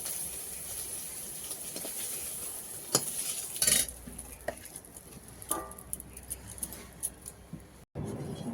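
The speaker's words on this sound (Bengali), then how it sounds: "আরও কিছুটা চিংড়ি মাছ ছিল দিয়ে দিলাম" Prawns for a homestyle prawn biryani fry in a pan, with faint sizzling under intermittent metal stirring clinks and scrapes, close but quiet, with no talking.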